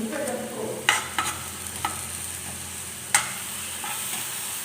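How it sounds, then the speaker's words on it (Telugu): Onion paste frying and being stirred in a pan for a spicy Andhra-style bitter gourd dish, a low steady sizzle broken by a few sharp scraping clinks of the spoon, close by with no voices. "ఈ ఉల్లిపాయ పేస్ట్లో నీరు పోయే వరకు కొంచెం వేపుకోవాలి మనం."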